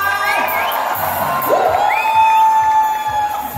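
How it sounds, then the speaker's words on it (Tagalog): A crowd at an anniversary celebration cheers and shouts, with high excited voices and whoops riding over a busy, loud crowd din that carries on steadily to the end. "Pwede po makahingi ng isang malakas na palakpakan na kasamang sigawan!"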